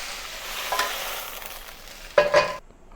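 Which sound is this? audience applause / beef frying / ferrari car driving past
beef frying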